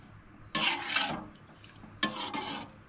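Vermicelli being stirred through hot water in a pan, two bursts of scraping, swishing stirring separated by a quieter gap, close by with a faint kitchen background.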